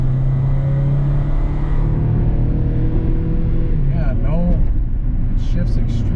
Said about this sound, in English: So downshift it, get it to rev up a little bit.